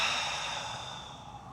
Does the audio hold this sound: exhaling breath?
yes